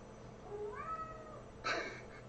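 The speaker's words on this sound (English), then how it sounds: "Oh, cat." A cat gives a clear, rising meow, then a short, sharper second cry follows, both close and moderately loud over quiet background hum.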